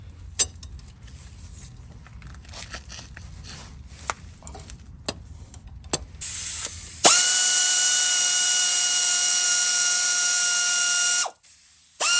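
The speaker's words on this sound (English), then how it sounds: "Now let's get the caliper brackets, bolts out." A power tool loosens caliper bracket bolts on a Chevy truck. Faint workshop clicks come first, then a loud, steady mechanical whine with a buzzing ratchet edge runs for several seconds before cutting off.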